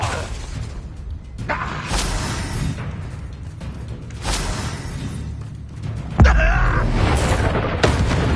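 A fire spell blast from the video game Hogwarts Legacy, with whooshing magic swells and a sudden loud booming burst near the end that stays dense and roaring, all over a rumbling game soundscape.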